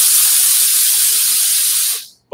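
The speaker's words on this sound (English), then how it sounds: "blow in the steam into your sleeve," A Laurastar iron blows a powerful, continuous jet of steam into a garment sleeve, a loud, even hiss lasting about two seconds before cutting off abruptly.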